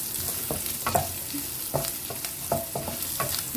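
Halved garlic sizzles as it browns in a pan with ampalaya and dilis, a close crackling fry broken by repeated scraping stirs of a utensil at a steady, unhurried rhythm.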